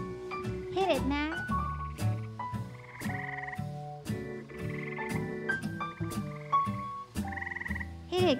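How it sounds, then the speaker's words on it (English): Bullfrogs croak in a backyard at night, deep repeated calls near and far layered over each other, with a chirping insect chorus in the background and no voices. "Crickets and bullfrogs."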